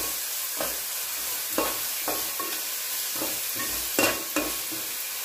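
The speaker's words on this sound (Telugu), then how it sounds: "పుదీనా పేస్టు పచ్చివాసన పోయేంత వరకు కలుపుకోవాలి" Mint paste is stirred in a hot pan while frying for mint rice. Scraping spoon strokes return at irregular intervals over a steady, close sizzle, with no talking.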